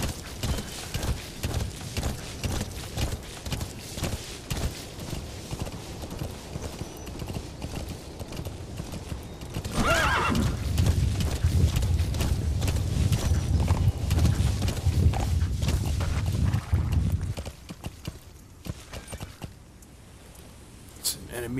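Horse hooves clip-clop steadily in Metal Gear Solid V: The Phantom Pain as a horse moves on foot, the rhythm growing louder and heavier midway before easing off, with game sounds and some talk mixed in.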